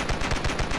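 Rapid modded gunfire from a shooter in the game Ravenfield, a dense automatic burst of shots fired continuously and loudly with no pauses across the moment.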